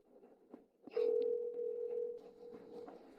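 A telephone call being placed: a brief blip, then a steady dial tone sounds loud and close for about two seconds, with faint background noise around it.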